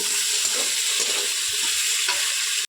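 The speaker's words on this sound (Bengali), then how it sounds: "এবার টমেটো, আলু, মশলা ভালোভাবে কষিয়ে নিতে হবে।" Potatoes, tomatoes and spices are sautéed in a pan, giving a loud, steady sizzle with scraping and stirring textures throughout and no voices.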